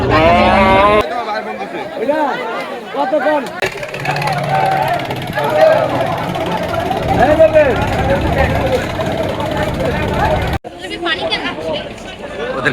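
Cattle low and moo among a busy crowd at Gabtoli cattle market in Dhaka before Eid al-Adha, with steady chatter and voices throughout and an engine rumbling faintly underneath.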